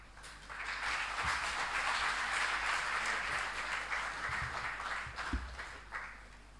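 An audience at a university book launch breaks into sustained applause, a broad wash of clapping that swells in and holds steady with a few thumps underneath.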